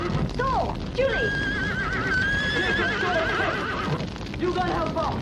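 Horses whinny and neigh repeatedly in a burning stable, shrill calls rising and falling near at hand, with hooves clattering and people shouting amid the commotion.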